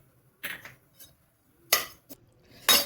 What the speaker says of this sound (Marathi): आपण टाकूया धना डाळ.